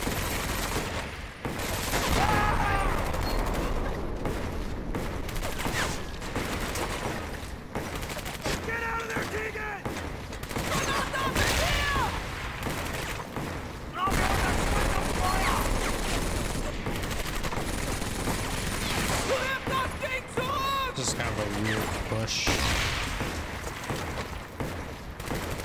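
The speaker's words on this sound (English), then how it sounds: "machine gun shooting." Sustained machine-gun fire from the World War II shooter Medal of Honor: Vanguard, with dense rapid bursts and scattered explosions continuing loudly almost without pause throughout.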